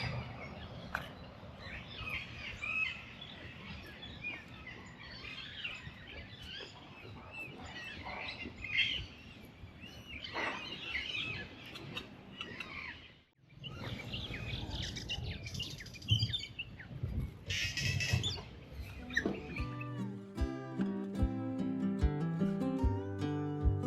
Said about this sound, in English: they're just like all making different bird calls and singing their asses off